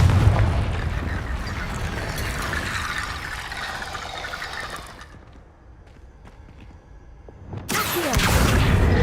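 A Confringo blasting spell explodes in a Harry Potter game: a loud, sustained roaring burst of fiery rumble that fades to a quieter crackling lull, then surges back loud near the end.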